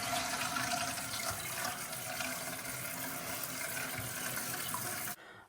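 Toilet tank refilling with water through a newly installed fill valve: a steady hiss and rush of running water, close and continuous, cutting off abruptly near the end.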